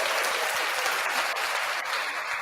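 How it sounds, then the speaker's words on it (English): Steady, dense applause from an after-show audience, loud and continuous throughout with no pauses, a crowd clapping for a performer named Sandra. "Give Sandra a big round of applause there, guys."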